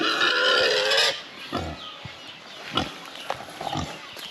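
Tethered sows on a farm give a loud squealing cry, then a string of low, close grunts and snorts, with a faint hiss of background noise.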